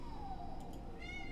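A single domestic cat gives one short meow, faint and somewhat distant, over a quiet room hum.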